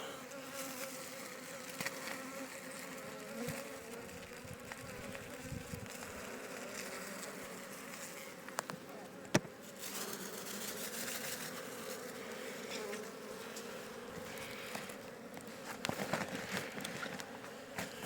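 Dense, continuous buzzing of many honey bees close by at a beehive in Kozan, Adana, a steady drone with occasional louder passes of individual bees.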